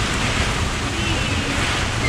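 Waves wash over a sailboat in a hurricane, a constant roaring hiss of surf and wind buffeting close to the microphone.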